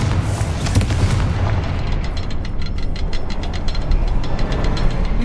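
Confringo fire spell blast in Hogwarts Legacy: a loud, full explosion boom followed by a dense rumble and crackling debris, with a steady roar continuing throughout.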